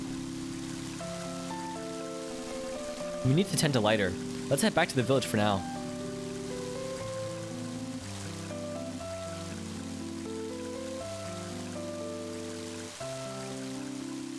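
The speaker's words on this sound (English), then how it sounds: "Let's just hope this rain puts out the fire" Rain pours steadily through the video game Mother 3 beneath game music, with a person speaking briefly over it partway through.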